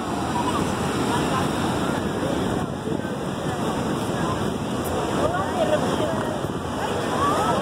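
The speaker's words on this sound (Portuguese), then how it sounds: "Aqui as ondas estão melhores, são maiores aqui." Ocean waves rolling and washing onto the sand at Costa da Caparica beach in Portugal, a continuous loud surf roar with wind buffeting the microphone and someone speaking over it.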